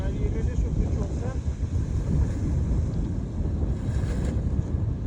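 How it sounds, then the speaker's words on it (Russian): Strong wind of about 20 knots buffets the microphone on the water during a parawing session, a constant loud rushing roar with low gusty rumble, mixed with splashing waves and faint voices. "Сегодня дуло уверенно 20 узлов"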